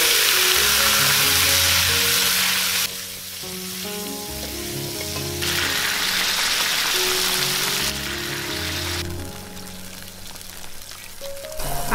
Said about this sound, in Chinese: 接着把猪脚放进来炒香